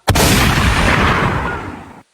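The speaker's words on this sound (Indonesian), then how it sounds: "Meledak." A single loud explosion bursts in abruptly and roars for about two seconds before cutting off, heard alone and close.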